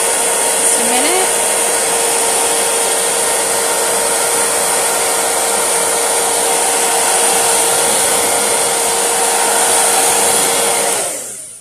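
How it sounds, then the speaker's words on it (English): A hair dryer blows steadily at close range, a loud continuous whooshing hum that runs without pause and then cuts off at the end. "all you have to do with the hairdryer on this is just dry it for"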